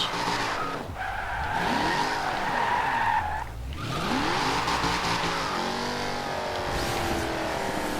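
A race car in a Forza Horizon 2 sprint race revs hard while its tires skid and squeal through turns, engine pitch sweeping up and down continuously, loud and close.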